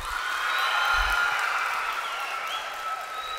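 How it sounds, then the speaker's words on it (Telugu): Audience applause at a Telugu film audio success meet, a steady, loud wash of clapping that fills the whole stretch with no pause or break. "ఒకసారి క్లాప్స్"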